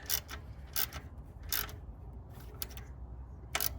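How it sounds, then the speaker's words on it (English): Small socket ratchet snugging bolts on a Toyota Camry alternator, a few short quiet clicking bursts spaced irregularly over steady low background hum, close by. "I'm just gonna snug these up real quick, and I'm using a small little socket"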